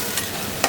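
A paste of ground coriander, cumin and dried red chilli fries in a pan after water is poured in, giving a loud, close, continuous hiss with a couple of brief sputtering bursts.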